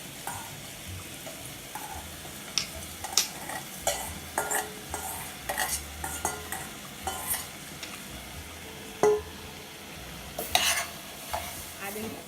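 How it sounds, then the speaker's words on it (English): Peas tipped into a pot and stirred while cooking for lobster with wild rice, with repeated soft scraping and clinking strokes over a low steady sizzle, close and moderately quiet, no talking. "I'm gonna add the peas."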